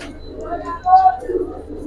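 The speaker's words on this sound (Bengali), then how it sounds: "কবুতর ধরতে এতক্ষণ লাগলে চলবে?" Pigeons, Giribaz, Army, Pankhi, Lalpaoti and Silver breeds, coo softly in a low murmur while being handled for sale, with background voices nearby.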